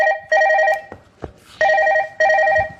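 A phone rings in electronic bursts, three loud tonal trills separated by short pauses, with faint thumps and rustles between them.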